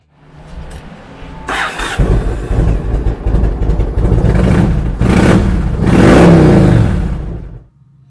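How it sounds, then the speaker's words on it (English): A 2004 Yamaha XV1700 Road Star Silverado Midnight, a 1670cc V-twin motorcycle, fires up and runs, its engine swelling through a few loud revs before cutting off abruptly near the end. "It's powered by a 1670cc V-twin engine that puts 84 horsepower and 99 foot-pounds of torque through a 5-speed transmission."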